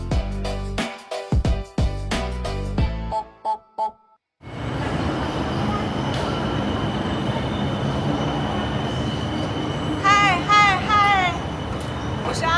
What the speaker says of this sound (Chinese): 我在坐泰国地铁